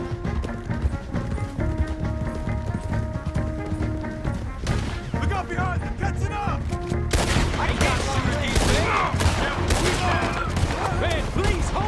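Dense gunfire from a Red Dead Redemption 2 shootout, with loud rapid volleys of shots that intensify into a continuous barrage midway, over game music, hoofbeats and voices.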